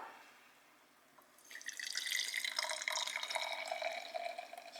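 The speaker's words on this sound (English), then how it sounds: "you just pour it into your cup" Matcha is poured from a machine into a cup, a faint trickling and splashing of liquid that builds up and continues steadily at close range.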